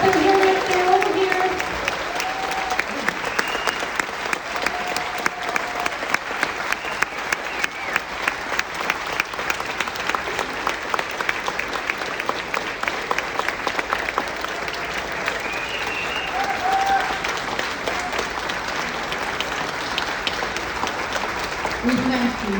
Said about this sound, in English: please stand up and let's give them a thunderous ovation, ladies and gentlemen